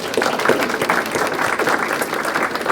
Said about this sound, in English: Let's give yourselves a quick round of applause.